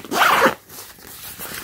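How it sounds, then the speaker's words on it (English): A quick zip on a Supreme x The North Face Steep Tech Apogee jacket, one short, loud, close rasp followed by faint handling rustle. "Let's go ahead and unzip it."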